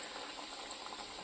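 Sweet potato pitha frying in hot oil gives a steady, soft sizzle and bubbling hiss that runs evenly throughout, with no voices over it.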